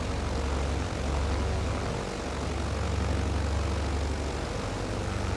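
Propeller airplane engine in Microsoft Flight Simulator 2020, a loud, continuous droning hum with a steady low throb that holds at an even level throughout, heard alone without talking.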